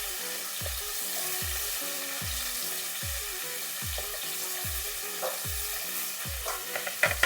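Bitter gourd fries in oil in a wok, a steady bright sizzle with regular rhythmic scraping strokes of a spatula about once a second, close and even.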